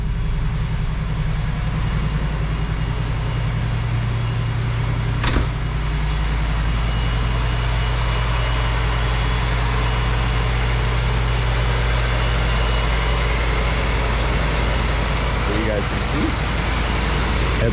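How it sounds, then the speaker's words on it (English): A 1985 Buick Riviera engine idles steadily after a cold start, a constant low rumble heard up close and unbroken throughout, with talk faintly over it. "I just did a complete cold start on it."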